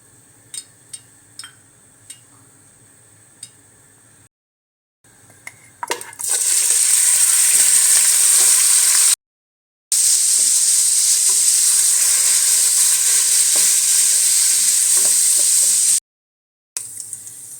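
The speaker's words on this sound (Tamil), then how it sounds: "இப்போ கொஞ்சம் எண்ணெய் ஊற்றி நம்ம இந்த பன்னீரை லேசாக ஃப்ரை பண்ணிக்கலாம்" Paneer frying lightly in oil in a pan: a few small clinks first, then a loud, steady close sizzle that runs on with brief gaps.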